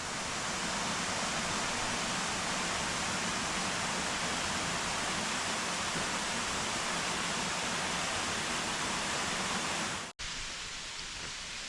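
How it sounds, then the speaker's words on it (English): A waterfall on the Garda Trail around Lake Garda gives a constant dense roar of falling water, steady and fairly close, before cutting off abruptly near the end with no talk. "Another nice waterfall."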